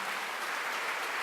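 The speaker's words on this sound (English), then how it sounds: "Don't clap, that's not going to be good because once you come here, there'll be no time to clap" Audience clapping at an ashram gathering, a dense, even patter of many hands held at a steady moderate level for a brief moment.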